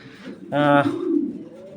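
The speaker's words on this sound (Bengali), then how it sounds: "কবুতরগুলো সবগুলাই অ্যাক্টিভ এমনকি রানিং কবুতর" Indian Red Bombay pigeons kept for sale give a close, throaty coo. A bright call swells briefly and then trails off into a low murmur.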